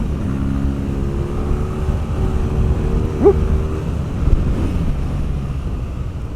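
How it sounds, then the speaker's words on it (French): A restricted A2-spec BMW R nineT Pure motorcycle engine revs slowly upward while riding, a steady droning rumble under heavy wind noise, with one brief voiced exclamation. "le moteur prend les régimes, mais c'est très lent"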